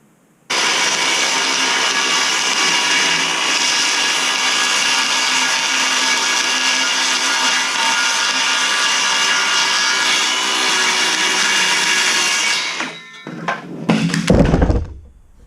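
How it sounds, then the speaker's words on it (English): A power drill bores holes through scrap wood for a homemade target stand, running as one steady, loud continuous whine for about twelve seconds before it stops and a few knocks and handling thuds follow. "I will drill a hole here,"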